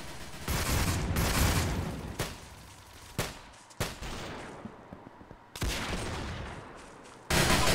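Sharp bursts of close gunfire in the Roblox game Arsenal, a long loud volley first, then single cracks and short bursts separated by quieter gaps, with a final abrupt blast at the end.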